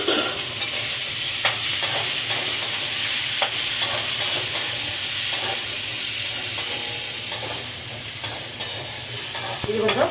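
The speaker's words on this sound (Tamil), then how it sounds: "இது கொஞ்சம் வெங்காயம் வந்து நல்லா வதங்கணும்" Chopped onions sizzle and fry steadily in a hot pan for idli upma, with scraping stirs of a utensil now and then, close and loud.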